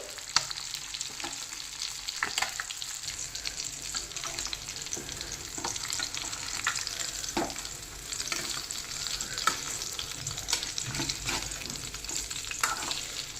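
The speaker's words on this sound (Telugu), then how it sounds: "మన ఫిష్ ఆల్మోస్ట్ ఫ్రై అయిపోయింది." Fish frying in oil in a pan, a continuous close sizzle with crackling pops and occasional stirring scrapes, steady throughout with no talk.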